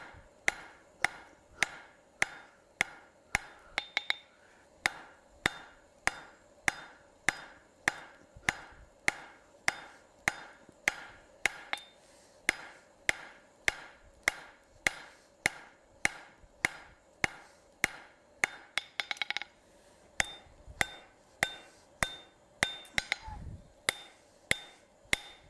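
A hammer forges a hand towel bar over the horn of an anvil in steady, evenly spaced ringing blows, roughly one and a half per second, close and loud throughout, with no talking.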